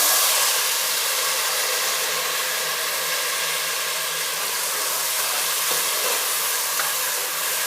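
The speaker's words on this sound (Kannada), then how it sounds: "ನಾನೀಗ ಇದಕ್ಕೆ ಬೆಳೆ ಈ ಒಗ್ಗರಣೆಯಲ್ಲಿ ಸೇರಿಸ್ತಾಯಿದ್ದೀನಿ" Peeled field beans (lablab) stirred into a hot onion tempering in oil give a steady, loud, even hiss that continues without a break for the whole stretch; no talking.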